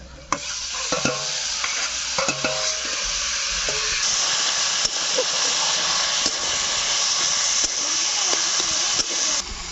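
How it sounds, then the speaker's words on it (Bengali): Fried greens tossed with deeply browned onions in a hot pan, giving a loud continuous sizzle and hiss with steam and repeated spatula clatter near the start, close by and steady throughout. "পেঁয়াজটা ভালো করে ভেজে নিয়েছি, এখন ভেজে রাখা শাকটা দিয়ে দেবো।"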